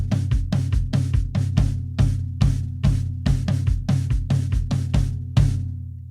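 Drum kit playing a steady four-on-the-floor kick with a driving tom pattern, loud and close, with regular evenly spaced hits throughout and a final accented hit near the end.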